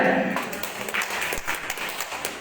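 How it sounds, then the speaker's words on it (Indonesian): Applause from an audience at a cultural award ceremony presenting badges and certificates, a steady dense patter of clapping throughout a short moment, with a voice briefly heard at the start. "Tepuk tangan semuanya."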